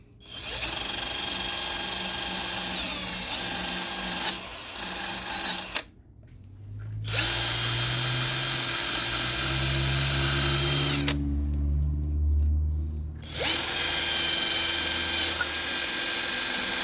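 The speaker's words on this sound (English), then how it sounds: "all I'm going to use is a drill with a wire brush" A power drill spinning a wire brush to clean brake parts on a 2006 Nissan Xterra, loud sustained whirring in long runs separated by two brief pauses, with low rumbling between bursts.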